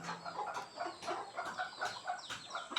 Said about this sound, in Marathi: सगळे गावठी कोंबडी आहेत